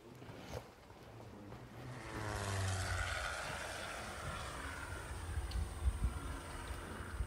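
A light airplane flies aerobatic stunts over a Russian province, its propeller engine a distant, droning hum that swells and wavers continuously without any voices.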